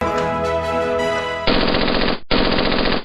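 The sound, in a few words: aerial gunfire, celebratory shooting in the air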